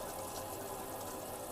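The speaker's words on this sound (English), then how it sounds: "I'm going to start filling up the sink with water" Tap water pouring steadily into a sink inside a VW camper van, a continuous broadband rush with no pauses and no voices.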